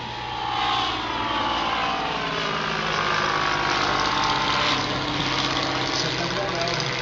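Spad XIII vintage World War I fighter plane engine droning steadily as it flies past at an airshow at La Ferté Alais, a loud, continuous roar with a slight swell, voices faintly underneath.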